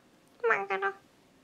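A human voice imitates a cat eating tuna, giving a short two-part meow-like vocalization, close and clear against a quiet background.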